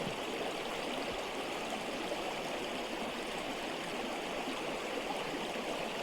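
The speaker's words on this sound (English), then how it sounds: "Here's the creek." Creek water flows steadily nearby, a constant broadband rushing and babbling with no break and no voices.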